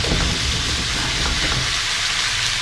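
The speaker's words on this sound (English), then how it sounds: "here's the meatballs simmering away in their sauce" Meatballs simmer in sauce in a pan, giving off a close, loud, continuous sizzle and bubbling hiss that holds steady throughout with no talking.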